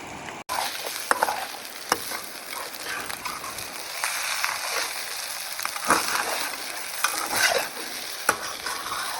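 Fried rice being stir-fried in a hot pan at a campsite in northern Thailand, with steady sizzling and frying, a spatula scraping and clattering against the pan at intervals, and no one speaking.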